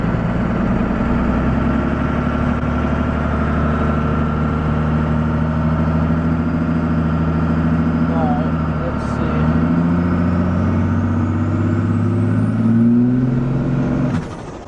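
Diesel truck engine fitted with a full exhaust revving under throttle, a loud deep rumble that holds steady, dips briefly midway, then surges again before cutting off at the end, no talk.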